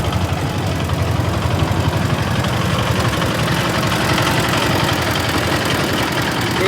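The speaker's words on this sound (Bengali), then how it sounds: "দেখতেছেন মেশিন স্টার্ট হয়ে গেল।" Engine of a net-pulling machine running steadily for lift-net fishing, a loud close, continuous low rumble with rapid knocking throb and no talk.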